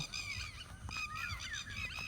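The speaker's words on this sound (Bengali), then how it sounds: "ওই পাশে কিভাবে পাখি ডাকছে।" Goose-like honking calls ring out repeatedly in a bird sanctuary surrounded by forest in Bangladesh, overlapping and fairly distant against a steady outdoor hum.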